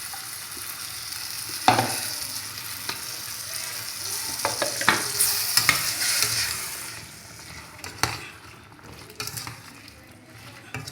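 A tomato and yogurt purée with garam masala, stirred for vegetable pulao in a pressure cooker, gives steady scraping strokes over a continuous close sizzle, with a sharp knock early on and quieter stirring near the end.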